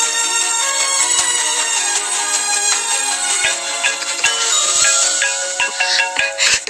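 A phone ringtone plays continuously in a Hindi film, a bright melodic electronic tone that keeps going without pause, fairly loud and with no voices over it.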